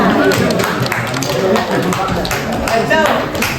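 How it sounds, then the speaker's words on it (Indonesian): Students in a classroom clap for a presenting group, a busy patter of hands mixed with chatter and voices throughout. "Tepuk tangan untuk kelompok 5"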